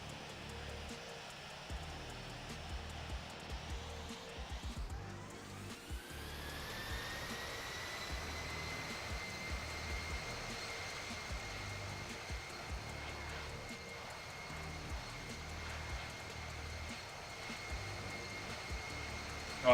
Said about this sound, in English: Let's see the takeoff real quick.